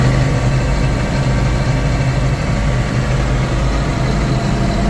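A tractor engine works steadily under load while pulling a plow through a furrow at a farm plow day, a loud, continuous low rumble that stays close and even throughout.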